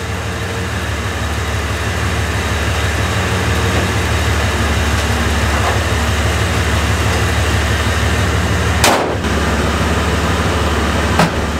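A Chevy S10 pickup bought for $500 drones steadily through a test drive, its low engine hum constant and loud with a couple of brief sharp bumps near the end.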